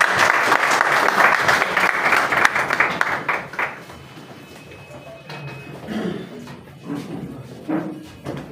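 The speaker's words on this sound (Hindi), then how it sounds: "भरपूर तालियों में इस्तकबाल कीजिएगा जनाब मौलाना मोहम्मद आसिफ मुआविया साहब का" A seminar audience applauds a Maulana as he is welcomed to speak. The dense clapping is loud for about four seconds, then thins to scattered claps and room noise with some background voices.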